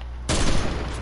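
A sudden burst of gunfire in a shooter video game, loud and close, starting abruptly after a moment of quiet and then ringing out briefly.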